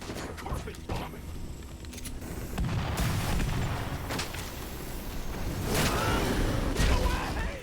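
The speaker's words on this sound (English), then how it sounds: "Carpet bombing!" Carpet bombing in Werewolf: The Apocalypse – Earthblood: a rolling wash of heavy, rumbling blasts and debris that swells louder toward the end, with scattered sharp cracks over a constant low roar.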